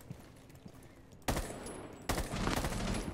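Video game gunfire in Rainbow Six: two sudden loud bursts of rapid shots, the first at about 1.3 seconds and a heavier, sustained one from about 2.1 seconds to the end, over faint background noise before them.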